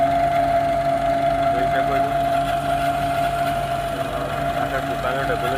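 A 10 DI tractor drives a peanut thresher at a steady, continuous drone with a constant mechanical hum and rattle, fairly close, unbroken throughout.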